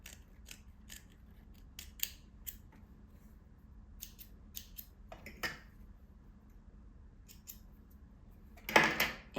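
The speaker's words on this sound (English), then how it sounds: "Go ahead and trim off all the excess." Scissors snip quietly through excess fabric at a pencil skirt waistband in a series of short, crisp cuts spaced irregularly over a low room hum, ending in a louder rustling cut.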